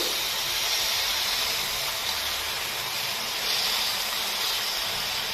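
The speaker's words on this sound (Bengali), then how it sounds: "পুরো পেস্টটাকে ভালো মতো ভেজে নিতে হবে" Ginger, garlic and chili paste frying in a pan gives off a steady, dense sizzle with an even hiss that holds without a break, close by, and no talk.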